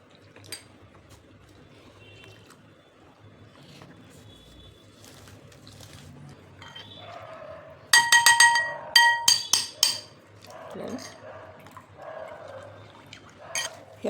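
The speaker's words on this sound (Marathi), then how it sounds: "याला थोडं थोडं पाणी घालून मिक्स करायचे." Cornflour and jowar flour slurry mixed with water in a bowl, with quiet stirring at first, then a burst of sharp spoon-on-bowl clinks and clatter midway before settling back to softer mixing.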